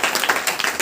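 Congregation clapping during a church service, a quick burst of several rapid hand claps in rhythm, close and fairly loud, lasting under a second.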